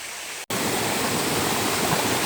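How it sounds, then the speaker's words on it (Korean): Cool mountain valley stream rushing steadily, a dense broadband water roar heard up close with a brief cut near the start, no talking. "시원한 계곡에 들어왔습니다"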